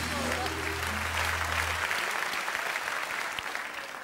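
Studio audience applause on a Turkish talk show, a dense, steady wash of clapping over a low music bed that drops out, with the applause continuing throughout.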